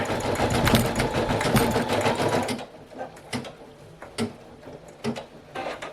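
An embroidery sewing machine stitching a patch, a dense rapid mechanical whir for a few seconds that stops abruptly, followed by quieter clicks and taps of the machine settling.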